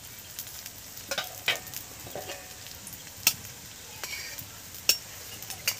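Egg paratha fries in a pan with a little oil, giving a faint, steady sizzle broken by a few soft scrapes and sharp clicks of a utensil against the pan.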